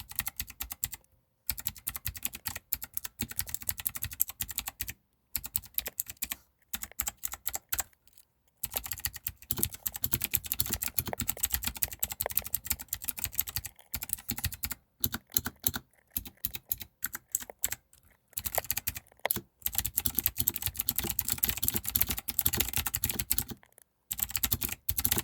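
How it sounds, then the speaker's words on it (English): Rapid, continuous clacking of typing on a Royal Kludge RK84 mechanical keyboard, close and crisp with brief pauses between bursts, no voices. "let you all listen to some of this ASMR action at what the keys sound like when"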